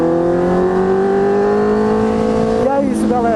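Honda CB 650 F motorcycle fitted with a full Jeskap GP2 R exhaust, its engine holding a steady, loud rising drone before a quick blip of revs near the end.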